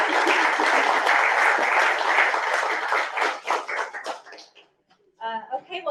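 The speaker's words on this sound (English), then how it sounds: "All right, a round of applause for both Tammy." Applause from the audience at a small business access-to-capital program, dense and steady for about four seconds before thinning into scattered claps, a brief silence, then voices talking.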